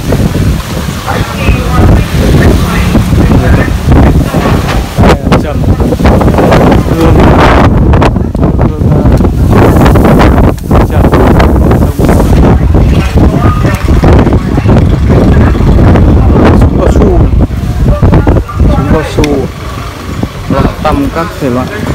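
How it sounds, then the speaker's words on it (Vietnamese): Strong wind buffets the microphone at Van Phuc market, a loud continuous roaring rumble with gusty surges, while people talk underneath throughout. "gió dã man, gió to đấy, chỗ này hút gió đấy"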